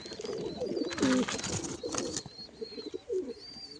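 A freshly caught pigeon with a numbered ring on its leg gives a few soft, low coos, one near the middle and another toward the end, over quiet background noise.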